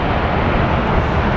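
A Breeze Airways Airbus A220 airliner passes at Phoenix Sky Harbor Airport, producing a loud, steady, close jet roar that fills the whole moment without a break.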